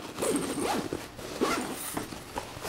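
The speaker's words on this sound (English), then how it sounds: "you got the zipper down here. Opens all the way around." An Ogio backpack zipper being pulled open all the way around in several quick, raspy strokes with short pauses between them, close and clear.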